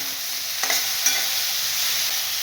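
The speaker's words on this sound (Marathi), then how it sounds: "चला आता भेंडी टाकून देते मी मस्त धुवून चिरलेली आहे" Chopped okra sizzles loudly in a hot pan while it is stirred, with a steady hiss of frying and a few brief scraping knocks from the spoon.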